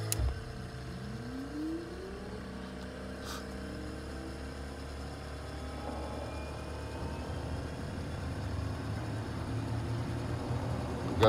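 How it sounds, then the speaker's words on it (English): Right engine of a turbocharged airplane starting up, a steady close whine and whir with a rising tone as RPM climbs, building gradually over a constant mechanical hum. "we'll do a right engine start on the airplane."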